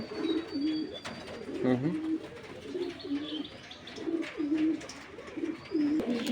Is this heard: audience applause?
no